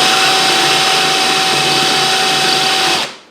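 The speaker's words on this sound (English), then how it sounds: "I'll drill for about that long" A power drill runs loud and steady on a brass cartridge casing for about three seconds with a constant whine, then spins down and stops.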